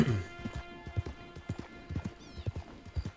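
Horse hooves clip-clop at a steady, close gallop as a rider climbs a ridge in the Red Dead Redemption 2 video game, with even rhythmic beats throughout.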